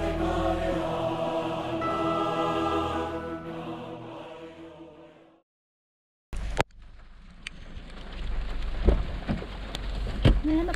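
Rain in New Zealand near a misty, swollen lake, heard as a steady hiss that cuts out briefly, then returns with scattered louder drops and a low rumbling wash underneath.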